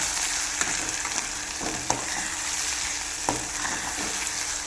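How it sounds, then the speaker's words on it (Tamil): Tomatoes and chopped onions fry steadily in hot oil for an egg curry, a continuous close sizzle broken by a few sharp clicks of stirring. "தக்காளி ஆட் பண்ணிவிட்டு நல்லா ஃப்ரை பண்ணி விடுங்க"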